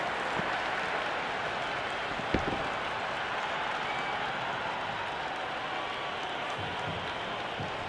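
A large crowd at an IPL cricket match between Royal Challengers Bengaluru and Sunrisers Hyderabad applauds and roars after a boundary, a dense, steady wash of clapping and cheering from the stands that stays loud throughout with no talk over it.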